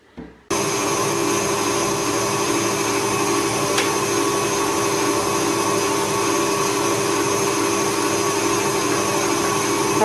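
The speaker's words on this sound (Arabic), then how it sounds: "دونك غادي نضربهم شويه في الروبو" A kitchen stand mixer whirs steadily as it beats red velvet cake ingredients. The loud, constant motor drone starts abruptly after half a second and runs evenly to the end, with no talk.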